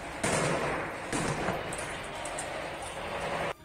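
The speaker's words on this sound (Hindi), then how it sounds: "वो इलाका गोलियों की आवाज से गूंज उठा" Gunfire in Ukraine war combat footage: bursts of loud, harsh automatic shots starting abruptly, recorded close and distorted, sustained for a few seconds before cutting off.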